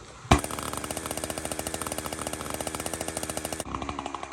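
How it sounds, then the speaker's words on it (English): A Husqvarna 372XP clone chainsaw running outdoors in cold wind, a close, loud, rapid rattling buzz that starts with a sharp burst and holds for about three seconds before dropping to a lower idle. "it is important that you let your chainsaw warm up"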